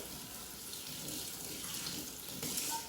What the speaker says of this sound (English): So you want to rinse that thick liquid off, and you'll see the bubbles forming.